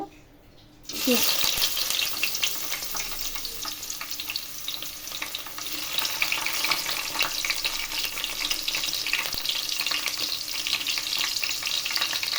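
Chopped onion drops into hot oil in a pan for a fish and winter vegetable dish, setting off a sudden, loud, steady sizzle that keeps crackling close up for about twelve seconds.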